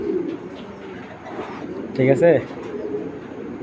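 A caged racing pigeon coos in low, soft bursts beneath a voice, the cooing running steadily behind a short spoken phrase.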